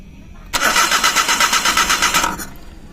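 A Suzuki Every van's engine cranks in rapid, loud pulses for about two seconds after throttle body cleaning, then stops without catching.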